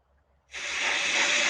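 Steam from millions of liters of sound-suppression water on a rocket engine test pad bursts in as a sudden loud, broad hiss after a quiet start, then holds steady and strong.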